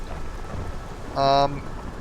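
Steady rain hiss in the Morrowind video game, a soft continuous wash of falling drops with a brief brighter tonal burst partway through; no voices.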